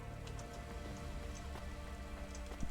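Steady rain pattering on surfaces in the Cloudpunk video game, a continuous soft hiss of drops at moderate level with no voices.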